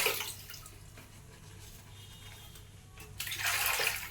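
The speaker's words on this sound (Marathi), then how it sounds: "तर आता पानं धुवून घेते बघा स्वच्छ" Water splashes and runs as taro leaves are washed by hand in a basin, not under the tap, with gentle trickling through the middle and louder sloshing bursts at the start and end.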